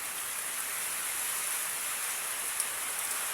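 Heavy rain falls steadily as an even hiss with no break and no voices, broken only by one faint drip-like tick.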